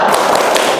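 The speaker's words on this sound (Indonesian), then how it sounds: "Tepuk semangat." A class of students claps together in a rhythmic spirit cheer, a loud, dense burst of many hands close by in a classroom.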